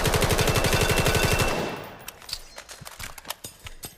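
Rapid automatic gunfire with heavy recoil from a weapon in the video game Vail, a loud fast burst of evenly spaced shots for about a second and a half, then fading into scattered faint clicks and taps.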